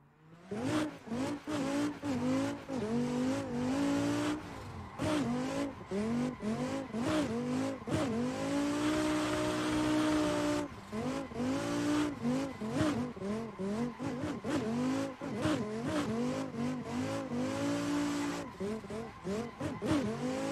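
A BMW race car in Assetto Corsa revs hard through repeated gear changes, its engine note climbing and dropping in quick bursts with tire squeal, loud and close throughout, with occasional faint talk underneath.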